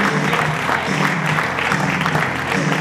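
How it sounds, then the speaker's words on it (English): Applause at a radio awards ceremony, a dense, continuous wash of clapping from a crowded room, steady and fairly loud for the short stretch. "Give a massive round of applause to Paul Williams."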